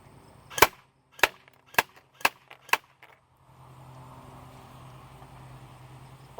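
Cyma 045C airsoft gun firing five sharp shots, evenly spaced and close by, at a target 25 feet away, followed by faint steady background hiss.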